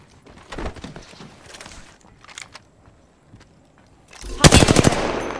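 Apex Legends gunfire: scattered shots and footstep-like taps, then a loud, rapid automatic burst that closes the clip.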